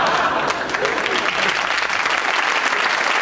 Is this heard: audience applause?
yes